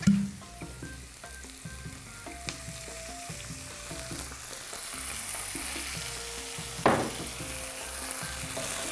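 Onion and garlic frying in a pan as white wine goes in, giving a steady close sizzle with stirring scrapes and a sharp hiss burst partway through, with no talking.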